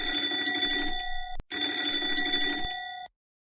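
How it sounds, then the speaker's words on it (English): A loud electronic alarm clock rings in two bright, buzzing bursts, each about a second and a half long, separated by a short gap, with no one talking. "It's 7 a.m. and I have a loud alarm clock."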